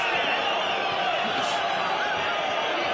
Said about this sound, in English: And you can hear the crowd already.